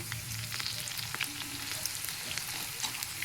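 Okra sizzles and splutters loudly in hot oil as it is gently stirred in a pan, a dense steady crackle with sharp pops throughout.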